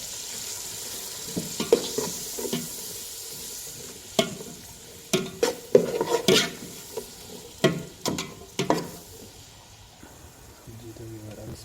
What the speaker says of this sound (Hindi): 3 से 4 मिनट भून लेना है।